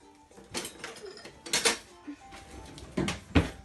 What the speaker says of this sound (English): I'm just going to take a spoon of the chocolate and just plonk it in